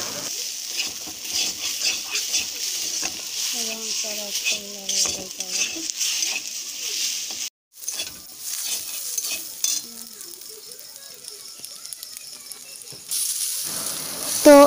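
Pasta with egg stirred and fried in a home kitchen pan, a steady sizzle under repeated scraping and stirring strokes, close and moderately loud, with a brief dropout midway.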